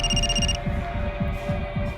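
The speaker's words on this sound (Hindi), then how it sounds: "नवीन, तुम्हारा फोन बज रहा है, लैंडलाइन से" A landline telephone rings in a tense indoor scene: a steady electronic ring tone sits over a pulsing low throb, with the bright tone cutting off about half a second in, loud and close.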